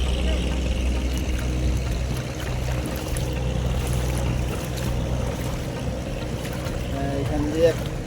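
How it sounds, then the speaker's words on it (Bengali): Large fishing trawlers heading out to sea on the rising tide at Banshbaria beach, with a steady low engine drone and water wash throughout and faint voices mixed in. "বড় বড় ট্রলার সমুদ্রে ভাসিয়ে দিল জোয়ার আসার সাথে সাথে"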